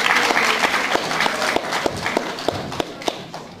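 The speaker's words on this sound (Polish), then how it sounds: "Wielkie brawo." Audience applause greeting a speaker taking the stage at an NGO event, a dense spread of clapping hands with sharp individual claps standing out, steady and fairly loud throughout.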